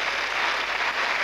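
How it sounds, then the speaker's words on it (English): Studio audience on a British TV game show applauding, a dense, even wash of clapping that holds steady throughout a short burst. "Big round of applause, please, for Ian!"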